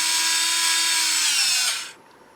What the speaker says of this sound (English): So, I'm going to drill a hole in here